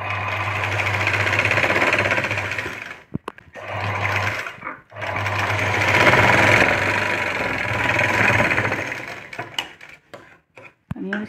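An electric sewing machine stitches a blouse neck design with a steady mechanical whir in close, continuous runs. It stops briefly around a few short pauses, and faint handling clicks fall near the end.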